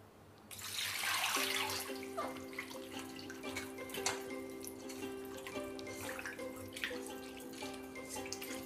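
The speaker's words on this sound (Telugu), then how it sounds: "ఇట్లా ఒక పది నిమిషాలు అయ్యాక మళ్ళీ వాటర్తో కడిగేసుకోవాలండి" Country chicken pieces are washed under running water, with a steady stream splashing into a vessel and occasional dripping and light clatter over the flow.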